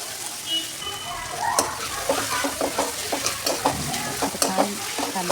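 Onion and tomato sautéing in a pan for a soybean chunk masala fry, with continuous sizzling and a run of rhythmic scraping stirs by a spatula, close and moderately loud.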